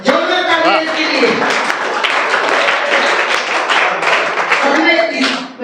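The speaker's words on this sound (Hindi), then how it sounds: "जोरदार तालियां इसके लिए" A workshop audience gives a loud, dense burst of applause for a brilliant student, close and continuous for several seconds, with someone speaking briefly before and after it.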